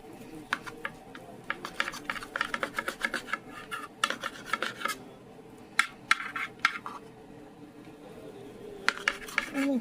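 A knife slices chicken into long strips for chicken Alfredo, making repeated close scraping and rasping strokes against a board in uneven bursts, separated by brief pauses.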